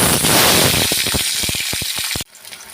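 Turmeric- and salt-rubbed katla fish pieces hit hot oil in a kitchen pan, giving a dense hissing sizzle that breaks into quick spattering pops before cutting off abruptly.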